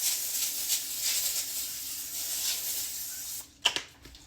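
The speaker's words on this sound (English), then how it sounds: "I am gonna spray my pan." Cooking spray hisses from a can onto a foil-lined baking sheet in a continuous soft spray, which stops before a couple of sharp clanks from the pan.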